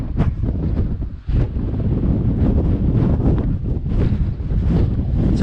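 Strong wind buffets the microphone on the exposed summit of Hedgehope Hill in the Cheviots, a loud, continuous roar with gusty surges and one brief lull.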